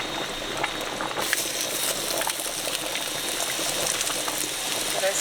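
Sliced onions sizzle in leftover grease and a little olive oil in a pan for salisbury steak, producing a steady, close, continuous hiss with faint crackles throughout.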